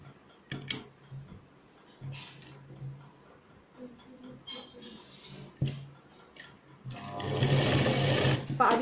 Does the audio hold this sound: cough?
no